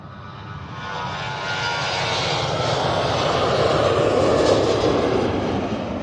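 A Boeing 737-800 jet at Manchester Airport roars steadily close by, its engine noise building over the first seconds and holding loud and broad to the end, with no voices.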